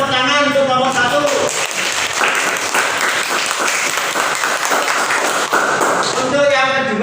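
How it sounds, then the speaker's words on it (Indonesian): Pupils in a classroom clap for their group, a dense burst of applause with voices calling out beneath it, loud and close, framed by a teacher's talk at the start and end. "Tepuk tangan untuk kelompok 1."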